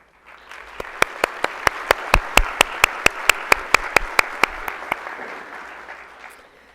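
Audience at a morning commencement ceremony claps for the committee, sharp regular claps standing out over a swelling wash of applause that builds, holds and then fades away.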